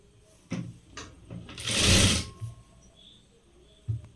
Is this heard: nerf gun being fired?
no